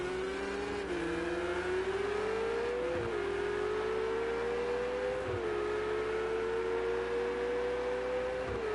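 GT3 race cars lapping Spa in a racing game produce a steady, close engine drone whose pitch climbs and dips with gear changes and throttle shifts, running continuously with no talking.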